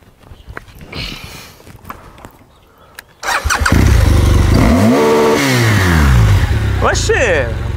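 A motorcycle starts and revs close by, its engine roaring up loudly and holding a strong, rising and falling growl after a quieter stretch of background noise and footsteps.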